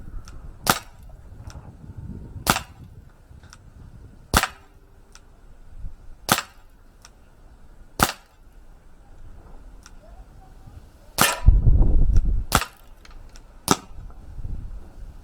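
An Umarex Beretta 92 Elite 2 air pistol fires around nine sharp, dry pops at uneven intervals, each short and crisp, with faint handling noise and brief low rustles between shots.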